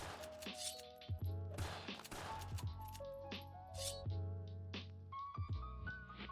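Gunshots crack in a video game as weapons are swapped mid-fire, an irregular run of sharp shots and impacts among ringing tonal effects and other game sounds, fairly faint overall.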